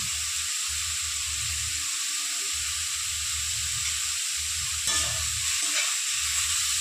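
Radish and lentil dumplings fry in a pan with a steady, loud sizzle and hiss, while rhythmic low scraping from stirring comes close up throughout.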